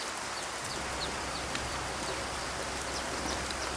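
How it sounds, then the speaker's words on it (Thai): Steady rain falls in Nong Khai, Thailand, a soft continuous hiss with faint patters, fairly quiet and unbroken for a few seconds, with no voices. "ก็เลยได้แต่มายืนดูฝนนะครับ"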